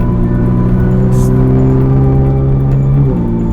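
A Ferrari 458 Italia with a 620 hp naturally aspirated V8 drones loudly at steady revs, a strong harmonic hum holding close and constant before the pitch shifts slightly near the end.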